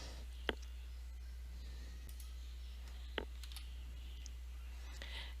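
Sparse, faint clicks of computer keys sound over a quiet steady hum, with a sharper press near the start and another midway through, separated by gaps.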